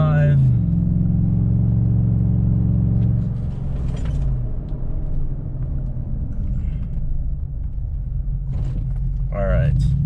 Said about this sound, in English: now we're gonna go up to 45 miles an hour and do this a couple more times